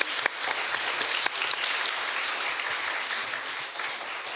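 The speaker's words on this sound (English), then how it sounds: "Can we just get an applause for that?" Audience applause at a panel discussion on diversity, a few seconds of steady clapping from a crowd at moderate level.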